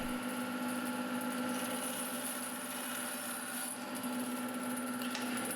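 Light wood for a pen body being trimmed to length with a power tool, a steady whirring cut held at constant loudness throughout, close and continuous.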